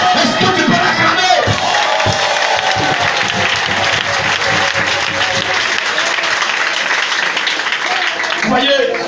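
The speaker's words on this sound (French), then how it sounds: "Est-ce que tu peux l'acclamer?" A seminar congregation at a Christmas gathering bursts into loud, sustained applause and cheering, a dense wash of clapping filling the room, with a voice speaking over it.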